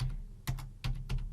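Quick, crisp keystrokes on a computer keyboard enter a website address: a few separate clicks and short bursts of taps, close up and quiet, with no one speaking.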